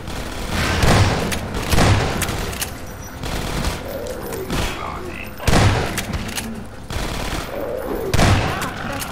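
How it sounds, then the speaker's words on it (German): In Half-Life 2: Episode One, a grenade explosion is followed by bursts of gunfire with repeated heavy booms and thuds about every second or two. Excited voices talk over the shooting. "Granate!"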